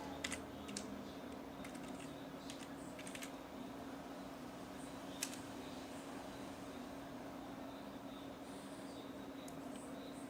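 A sudo password being typed on a computer keyboard to gain administrator access, heard as sparse, soft key taps in short bursts over a steady low background hum, with no one speaking.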